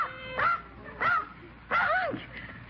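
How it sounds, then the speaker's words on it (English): A small dog gives three short, high-pitched yips and whimpering barks spaced apart, close and clear, in a quiet indoor room. "Unc, a dog."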